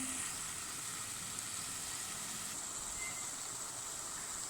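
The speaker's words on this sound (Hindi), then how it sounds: "तो अब मैं ये आपको फ्राई करके फिर शीरे में डाल के फिर आपको इसकी क्रिस्पीनेस दिखाती हूँ।" Jalebi batter frying in hot oil, a steady soft sizzle and bubbling hiss that holds evenly throughout at low volume with no talk.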